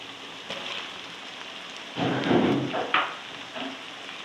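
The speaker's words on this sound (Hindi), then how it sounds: "टमाटर को भून लूँगी अच्छी तरह" Tomatoes frying in a pan with crushed garlic and ginger while cooking a desi alu matar qeema, a steady sizzle swelling louder partway through with a few sharper crackles, close and alone.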